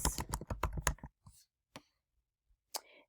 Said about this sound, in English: On the search bar, I am going to type fact families.